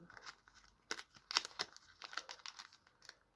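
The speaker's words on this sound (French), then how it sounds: "je vais pas fermer complètement la paire de ciseaux. Hop, je tourne ici" Scissors snip and crinkle through the foil wrapper of a Dragon Ball trading card booster pack, with several sharp crisp cuts and rustling close by, no talking.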